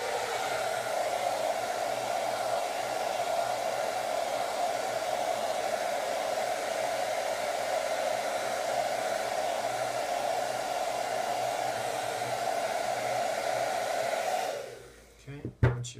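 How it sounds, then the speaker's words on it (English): A hair dryer heating vinyl skin wrap blows in a steady, even whoosh with a constant hum, running nonstop before cutting off abruptly near the end. "you're going to want to start with the blow dryer or the heat gun"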